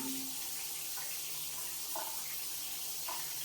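Water running from a square rain shower head and a handheld shower head at once, a steady broadband hiss of spray that stays even throughout with no talk.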